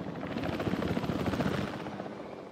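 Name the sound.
helicopter taking off in video game Jurassic World Evolution 3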